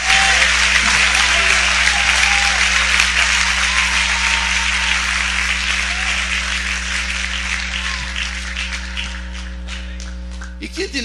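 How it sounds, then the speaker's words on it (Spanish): A congregation applauds in church during an evangelistic preaching service, many hands clapping loudly and steadily over a constant low electrical hum, the clapping thinning to scattered claps near the end. "Dele fuerte ese aplauso al Rey de Gloria."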